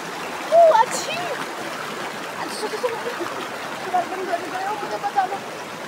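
A river is crossed on foot along a rough rocky path, its water rushing and splashing steadily and fairly loud, with voices heard faintly over the flow.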